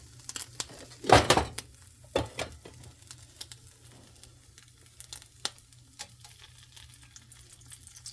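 Oil sizzles and spits in a frying pan while ham is cooked, with a loud crackling burst early on and scattered sharper pops over a low steady hiss; no one speaks.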